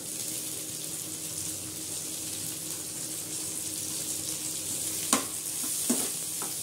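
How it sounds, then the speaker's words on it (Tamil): Tomatoes sauté in a pan for a sambar made without toor dal, giving a steady low sizzle with soft stirring scrapes and a couple of sharper utensil knocks near the end, no talking. "தக்காளி கொஞ்சம் நேரம் வதங்க"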